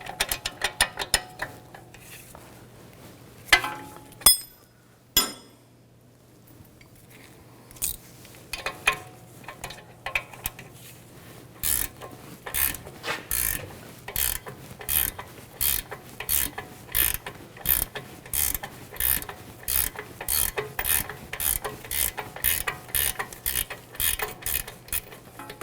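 A ratchet loosens the nut on a front sway bar link of a 2007-2013 BMW X5, starting with a few scattered metallic knocks and then a long, even run of quick clicking strokes, close and clear.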